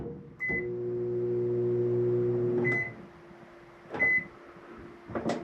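RV microwave oven in a 2013 Keystone Cougar travel trailer: a close, steady hum runs for a couple of seconds, broken by short beeps, and then a door click and a clunk follow.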